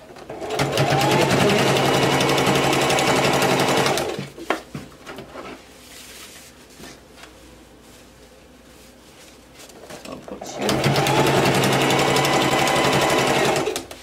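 A sewing machine stitches circle blouse fabric in two long, loud, fast-running bursts, separated by a quieter pause with faint handling noise.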